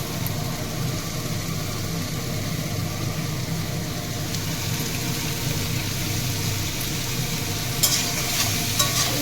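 Bitter gourd fries with salt and turmeric in a pan, a steady close sizzling hiss with a low rumble beneath and a few clinks of stirring near the end, no voices.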